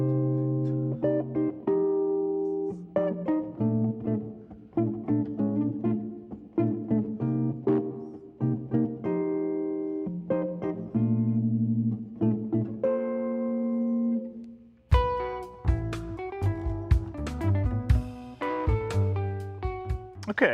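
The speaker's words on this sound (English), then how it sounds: "So if I play a 2/5/1 in 6/8 time" Jazz guitar runs through a 2-5-1 chord progression in a lilting 6/8 rhythm, with chords and melodic lines clearly picked, close up and without talk.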